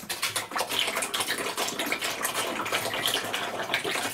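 Thick apple mash glugs and splatters as it pours out of a canister, a dense, continuous wet sloshing at moderate loudness with no one speaking.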